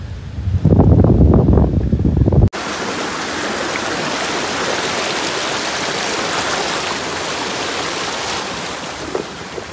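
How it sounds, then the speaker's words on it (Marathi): Kelavali waterfall pours in light rain with a continuous, loud roar of falling water, preceded by a few seconds of close, boomy wind or handling noise. "बघा आता मागे कसा धबधब्याचा फील येतोय आणि पाऊस पडायला लागलेला आहे थोडा थोडा"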